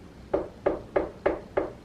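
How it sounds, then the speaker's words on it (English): Six evenly spaced knocks on a door, firm and fairly close, each a dull hollow thud in a steady rhythm with no voices. "So then we get a knock."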